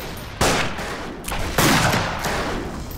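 Gunfire in the Western shooter game Fistful of Frags, two loud close shots with rolling echoes and a few fainter reports trailing between them.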